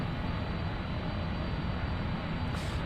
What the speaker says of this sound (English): I can still hear the plane